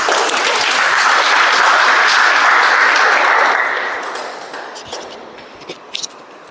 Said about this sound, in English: Let me request with a huge round of applause